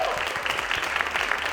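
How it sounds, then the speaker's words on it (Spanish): Studio audience claps for a guest, a chemist and executive director of the Edinburgh Science Foundation, on a science TV program; dense, steady applause fills the short moment at close range. "Un aplauso"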